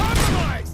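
Rapid gunfire from RoboCop: Rogue City, a dense, loud burst of repeated shots with a ringing mechanical tail that fades out within a second.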